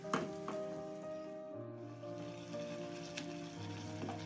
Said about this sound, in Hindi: अब हम इनको पकाएंगे अच्छे से और टमाटर को साथ में मैश करते चलेंगे